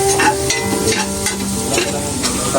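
Onion, garlic and chili sautéing in a pan, a loud, close, continuous sizzle with the rhythmic scrape and clatter of stirring throughout.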